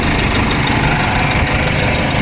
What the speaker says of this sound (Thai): เครื่องยนต์เดินแน่นๆแบบนี้ครับ